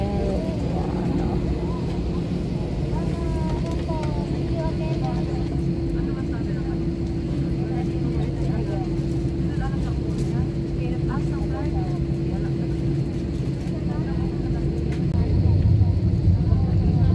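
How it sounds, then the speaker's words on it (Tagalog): Inside a plane at Hong Kong International Airport during takeoff, a loud steady cabin roar of the engines fills the space and swells near the end, with faint talk and cabin sounds underneath. "Nilipad na ang aeroplano."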